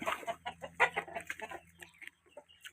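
Several chickens cluck in quick, irregular bursts close by, the calls thinning out toward the end with brief pauses.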